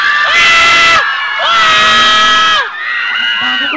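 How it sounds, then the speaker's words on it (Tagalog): A crowd at a gay pageant screams and cheers in loud, high-pitched surges that swell, dip briefly, and rise again, with shrill sustained shrieks dominating and little clapping distinguishable. "Sabay-sabay po nating hiyawan, sigawan, palakpakan at pagkaguluhan"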